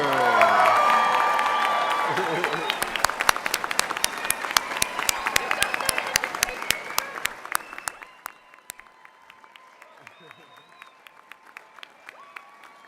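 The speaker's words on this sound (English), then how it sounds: "a heartfelt round of applause and maybe even a few hoots and hollers" Graduates and guests at a spring college commencement break into loud applause with cheers and whoops, the crowd noise thinning after several seconds into a few scattered, distinct claps that ring out in a large hall before fading.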